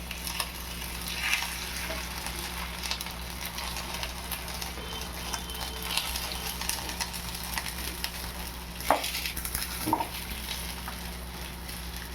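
A chicken burger patty frying in an oil-filled pan, giving a steady close sizzle with a few sharper crackles and spatters around the middle, and no talking.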